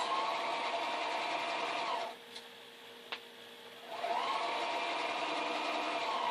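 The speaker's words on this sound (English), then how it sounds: "we're going to sew, not going over our pins" Sewing machine stitching a quilt block seam, a steady close whir that pauses briefly midway with a faint click, then resumes, no voices.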